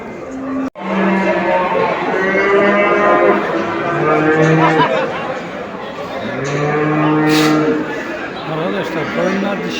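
Several bulls moo repeatedly, long low calls one after another, amid a busy background of murmuring people and general market noise at a livestock market in Çubuk, Ankara.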